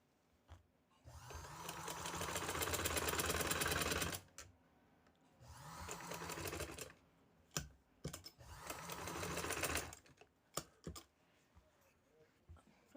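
A sewing machine stitches a sleeve in three sustained whirring runs, separated by short pauses filled with sharp mechanical clicks and taps.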